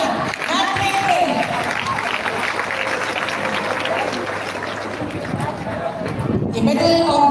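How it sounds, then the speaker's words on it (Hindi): An audience at a school awards ceremony applauds a top-ranked matric student with dense, continuous clapping mixed with crowd chatter throughout. "जोरदार तालियां मैट्रिक में।"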